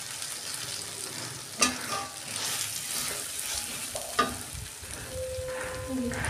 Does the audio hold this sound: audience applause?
no